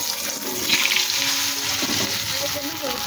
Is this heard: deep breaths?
no